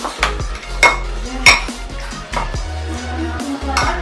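Lemon pickle is stirred in a metal pot, with a spoon scraping and clinking against the sides in uneven strokes, close and fairly loud over a low steady hum.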